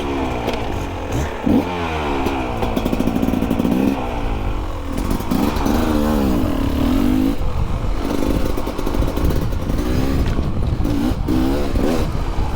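A Beta Xtrainer 300 dirt bike being ridden, its two-stroke engine loud and close, revving up and down in repeated surges and steady pulls throughout, with no talk over it.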